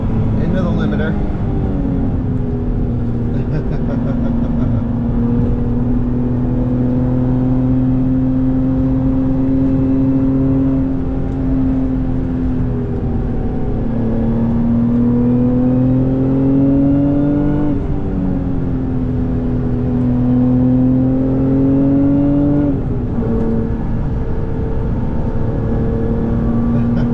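A Lotus Emira V6 with a manual gearbox, driven through a tunnel and revved to the limiter: a loud, sustained engine drone whose pitch climbs and drops back several times, close and continuous.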